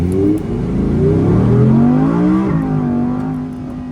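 Rebuilt Audi R8 engine revving up loudly and close, the pitch climbing over a couple of seconds, dropping sharply, then settling back toward a lower idle, with no talking.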